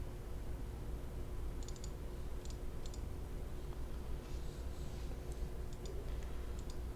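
Computer mouse clicks during a Unity game development session: a few faint, isolated clicks and short clusters of clicks scattered over a low steady background hum, with no one speaking.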